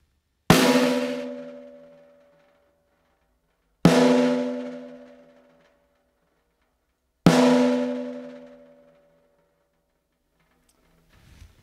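Three separate hits on a badly tuned snare drum, a few seconds apart, each with a sharp crack followed by a long, boxy ringing tone that slowly fades out.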